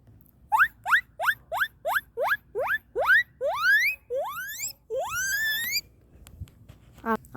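A person's voice imitating guinea pig squeaks: a rapid series of rising, whistle-like wheeks, close and loud, first short and evenly spaced, then longer and drawn out, with a few brief sounds after a pause.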